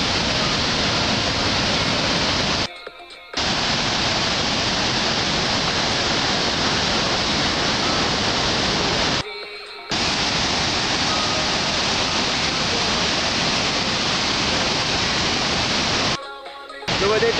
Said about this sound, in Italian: non è pioggia, è cascata.